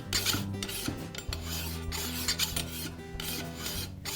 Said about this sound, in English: I may need to adjust the angle of my file to work around obstacles like the fin and the curve in the bevel.